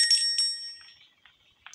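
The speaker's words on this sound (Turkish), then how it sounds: "Zil çaldı." In the horror video game Granny, a bright metallic bell rings twice in quick succession, then its ring decays through a few fainter echoing chimes, loud and isolated against silence.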